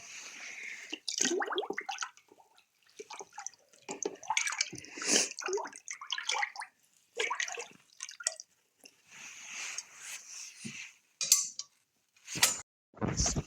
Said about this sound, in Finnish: Sitten vähän sekoitan sitä kauhalla